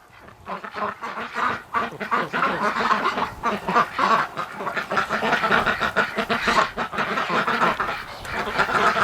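A Muscovy drake and Rouen ducks in a barn during breeding time, heard as a dense, continuous chorus of nearby quacks and honking calls, loud and overlapping throughout.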